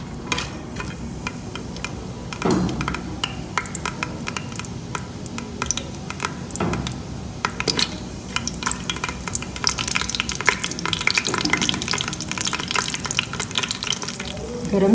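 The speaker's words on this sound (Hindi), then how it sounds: "अब मैं ये जो साबुत गरम मसाले थे वो डाल दूँगी और इन्हें थोड़ा सा फ्राई करूँगी।" Whole garam masala spices fry in hot oil for a mutton kofta dish, a steady crackling sizzle with scattered clicks and sharp stirring knocks from a utensil, fairly close and with no talking.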